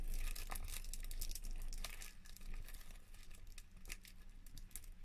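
Sticker sheet packaging being opened close by, a steady run of crinkling plastic with sharp crackles and short tearing bursts, continuing for several seconds with no talk.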